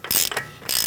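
A ratchet snugs up the axle nut on a 2002-2006 Toyota Camry front steering knuckle, two quick bursts of loud, close clicking separated by a short pause.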